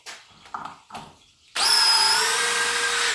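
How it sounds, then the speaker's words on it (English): A DeWalt Xtreme 12V cordless power drill whirs up loudly and runs steadily after a few scattered knocks and clatters. "I'm gonna use a drill."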